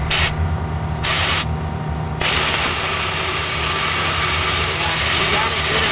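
Spray nozzle applying WoolWax undercoating beneath a Ford F150, a loud continuous hiss in short bursts at first, then one sustained spray over a low engine-like hum.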